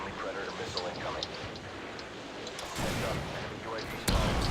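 Gunfire from the video game Modern Warfare 2, sharp bursts over busy in-game battle noise, with a louder shot near the end, under a player's talk.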